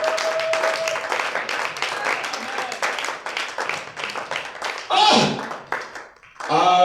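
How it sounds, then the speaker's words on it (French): A church congregation claps and cheers for the Lord during a pastor's service, dense rapid hand claps filling the room while voices call out over them, rising into a louder burst of cheering near the end. "Acclame très fort pour le Seigneur"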